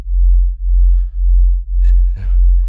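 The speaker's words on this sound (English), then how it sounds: "taken these two sine waves and I've detuned them, one down a little bit and one up" Two detuned sine waves form a deep FM bass synth in Ableton, pulsing in slow regular throbs, loud and close, with a brief pitched blip near the end.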